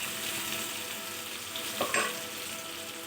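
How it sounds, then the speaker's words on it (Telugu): Onions fry in hot oil with a little salt for chicken fry, giving a steady close hiss and crackle with a brief scrape of a spoon near the end. "ఆనియన్స్ వేసి గోల్డెన్ కలర్ వచ్చే వరకు వేయించుకోవాలి."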